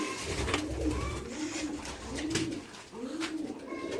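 Domestic pigeons coo steadily in a loft after a hawk attack, several birds making repeated soft rolling coos close by over low background noise.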